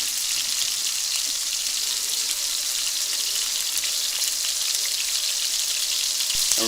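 Continuous bright sizzling of a venison burger patty frying in a hot pan, steady and close, with no voices.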